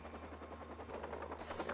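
A helicopter in the video game Watch Dogs drones with a low steady rotor thrum under busy game noise, moderately loud, with a higher mechanical whine entering near the end.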